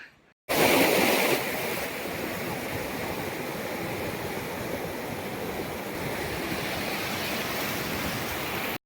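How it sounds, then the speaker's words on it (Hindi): A Himalayan glacier meltwater stream in Ladakh rushes steadily, a dense, loud, constant wash of flowing water with no voices after a brief quiet start. "पानी की आवाज आ रही है सब जगह, इस तरीके से पानी आता है।"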